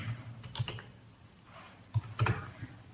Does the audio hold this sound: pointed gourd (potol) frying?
no